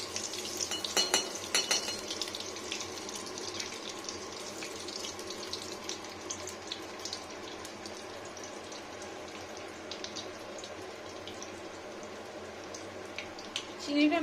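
Whole garam masala of cloves, cardamom and cinnamon fries in ghee in a pan with a soft, steady sizzle, alongside clinks and a stirring spoon, while a person talks over it.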